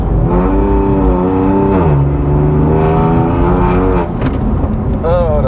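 A 700 hp BMW M4 CS Stage 3 engine revving hard under acceleration, loud and close, the pitch climbing and dropping through the gears with people talking over it.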